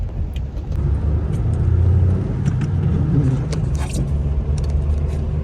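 A Jaguar X-Type car drives along with a steady, close interior engine and road rumble, a continuous low drone with light rattles and no talk.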